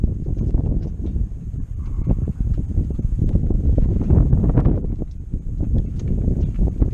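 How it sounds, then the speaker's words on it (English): A gust of wind buffets the microphone aboard a small sailboat, a loud, continuous rumbling roar with rustling that swells and holds for several seconds without speech. "That little gust there."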